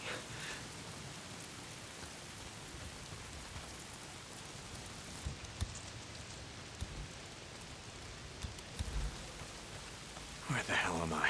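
Steady rain from the video game Days Gone hisses softly throughout, with scattered drops and faint thumps, quiet and constant.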